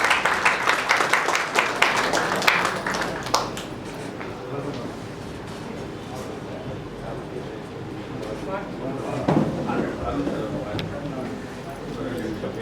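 An audience at a film press meet for Saithan Cycle-la Varudhu claps in a dense burst at the start that thins to scattered claps, with a voice speaking over the hall.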